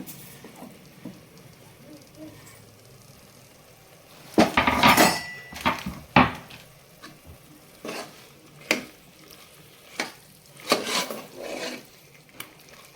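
Three cut tomatoes tip into a pan of kuska rice base, with loud clattering and scraping of a utensil against the pan in several close bursts over a faint sizzle.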